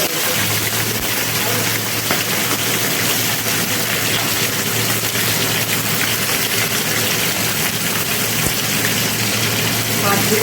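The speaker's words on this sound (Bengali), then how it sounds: "সর্ষের তেলটা ভালো গরম হয়ে গেছে। এবার আমি একটা একটা করে মাছ এর মধ্যে ছেড়ে দেবো।" Pomfret fish fried in hot mustard oil, giving a loud, steady sizzle and crackle that fills the whole stretch without letting up.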